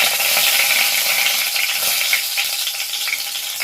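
A bay leaf dropped into hot oil in a pan while cooking a red chicken curry, giving a loud, steady sizzle with faint scraping, close by and without talk.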